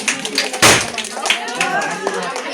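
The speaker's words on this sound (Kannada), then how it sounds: "ಹಾ ಚಪ್ಪಾಳಿ ಹೊಡಿರಿ" A brief burst of hand clapping at a family naming ceremony, one sharp loud cluster of claps followed by scattered taps, with people talking throughout.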